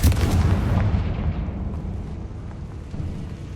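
Confringo spell blast in Hogwarts Legacy: one heavy, booming explosion right at the start, then a long rumbling roar that slowly fades over a few seconds, no voices.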